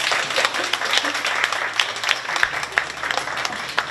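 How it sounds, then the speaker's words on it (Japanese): An audience applauds steadily at a children's civic news production event, dense clapping filling the whole stretch at moderate loudness with no one speaking over it. "ちょっと拍手でお願いいたします。"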